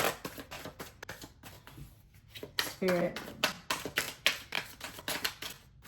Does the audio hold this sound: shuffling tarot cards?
yes